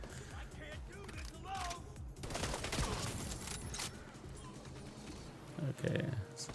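Bursts of automatic gunfire from The Division 2 rattle out in fast volleys over several seconds, close and loud, with a voice talking over parts of it.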